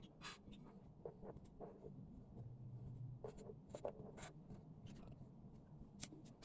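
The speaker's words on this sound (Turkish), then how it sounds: "Şimdi buna yuvarlaklar çiziyoruz. Ben o kalemle çizeceğim." A pen drawing circles on paper while making a fidget toy, faint close scratchy strokes in short repeated bursts with small taps between them, in a quiet room.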